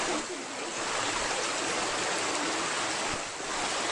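Water of a stream near a waterfall rushes steadily nearby, a broad churning flow with slight swells in level and some wind buffeting against the microphone.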